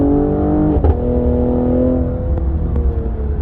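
A Cadillac CT5-V engine revs and roars steadily up close, its pitch climbing then settling, with a couple of faint clicks over the drone.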